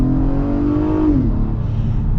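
2023 Acura MDX A-Spec accelerating: a steady, loud engine roar from inside the cabin, rising in pitch over a second before easing as the transmission shifts, with road rumble underneath and no talk.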